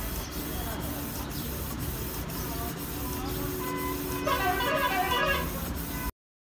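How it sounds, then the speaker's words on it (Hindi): A Canon inkjet printer prints a page with rhythmic mechanical passes, regular soft thumps of the carriage over a steady whirring hum, then a brighter chattering burst before it stops abruptly. "प्रिंटर हो गया चालू और प्रिंट होना चालू हो गया"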